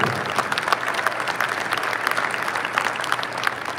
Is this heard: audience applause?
yes